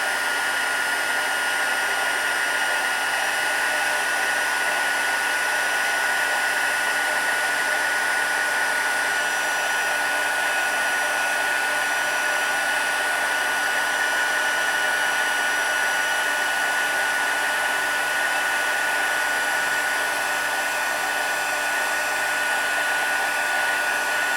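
A heat gun blows continuously with a loud, steady whirring roar, close by and unchanging throughout, with no speech.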